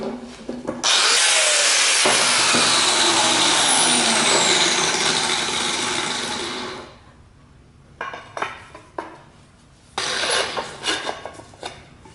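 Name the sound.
shaving wood off an adze handle to fit the head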